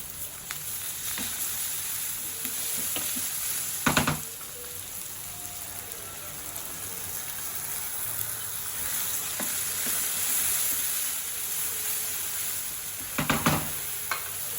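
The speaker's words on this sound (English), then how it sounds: "at this stage we'll add green chilies and ginger garlic paste" Green chilies and ginger garlic paste frying with onions for a potato egg curry, with a steady soft sizzle and a couple of brief stirring scrapes in the pan.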